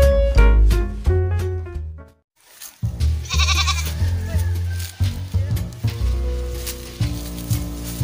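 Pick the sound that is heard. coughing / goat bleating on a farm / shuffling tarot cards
goat bleating on a farm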